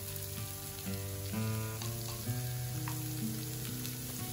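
Mustard seeds and curry leaves sizzle steadily in hot coconut oil, a continuous close frying hiss with faint crackles and no voices.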